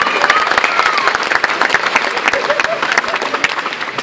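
Concert audience in a theater bursts into sustained applause, dense clapping and some crowd noise filling the space steadily for a few seconds.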